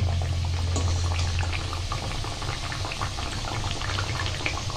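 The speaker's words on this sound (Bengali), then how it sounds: "এগুলো ভাজা হোক, আস্তে আস্তে এইগুলো লাল হবে।" Thekua, the Chhath Puja sweet, fries in a pan of oil with a steady, dense bubbling sizzle that runs without a break, over a low hum and with no talking.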